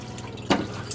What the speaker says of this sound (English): we're going to pour it into our strainer, and we're going to get rid of some of that water